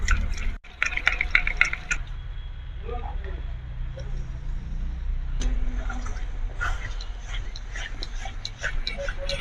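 Buffalo milk curd stirred and poured into a pan for doi katla: a sharp knock, then wet, sloshing spoon sounds and a thick pour with small clicks, close and fairly loud.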